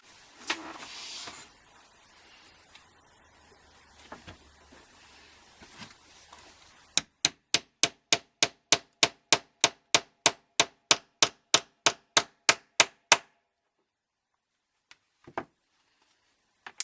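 Holes being punched in a leather belt: a quick run of about twenty sharp, evenly spaced metallic strikes, loud and close, after quieter handling sounds, followed by a pause and a couple of stray knocks.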